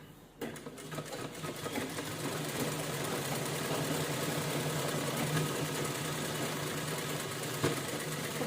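A sewing machine runs steadily stitching a cloth bag, its fast mechanical needle chatter continuous and close for the whole stretch with no talking.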